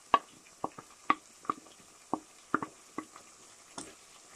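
Aubergine pulp frying in a pan for stuffed aubergine, giving a soft sizzle under a series of irregular scraping and stirring knocks, close and moderately loud, with no talk.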